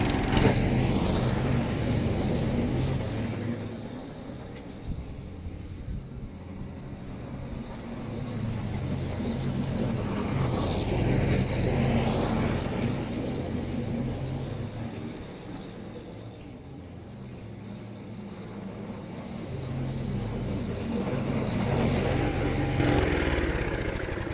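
An old ride-on lawn mower runs while mulching grass in a garden, giving a continuous low engine drone that swells and fades as it moves around. The sound is fairly loud throughout, with no talking.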